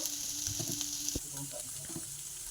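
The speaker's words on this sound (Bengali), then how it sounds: "এখানে আমি ডিমটা ভালো করে ভেজে নেব" Eggs fry in a pan with a soft, continuous sizzle and a few light scraping touches, quiet and close, with no speech.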